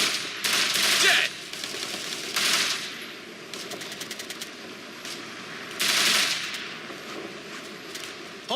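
Gunfire in the Operation Flashpoint Red River video game: several loud bursts of automatic fire and rapid single shots in clusters, with quieter ambient noise between them.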